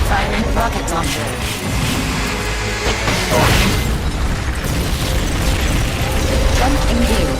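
A rocket launcher fires in Metal Gear Solid: Peace Walker, a loud, sustained booming roar with crackling bursts that fills the whole clip and stays dense and powerful throughout.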